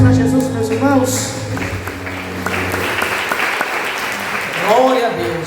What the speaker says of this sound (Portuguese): Palmas bem fortes para Jesus, meus irmãos.